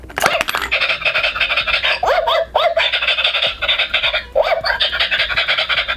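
An electronic toy dog gives a rapid string of loud, close, tinny barks and yaps, repeating the same clipped sound over and over with almost no pause between them.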